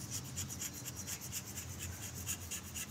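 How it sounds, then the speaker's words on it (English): Sandpaper rubbing back and forth on a part during thermostat replacement on a 1978 Chrysler Cordoba, a steady close rasping scrape with a regular stroke rhythm, alone without talk. "get a piece of sandpaper and rub on that"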